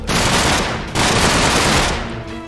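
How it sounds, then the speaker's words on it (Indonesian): Dense rapid gunfire from shooting in a Minecraft game with the BoBoiBoy mod, loud and sustained with a brief dip near the middle, and no talking. "Kita tembak Borara nih."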